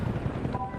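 An AH-1 Cobra attack helicopter in World of Tanks 2.0 gives a low, pulsing rotor thump with a steady drone over a short stretch, moderately loud, with no talk.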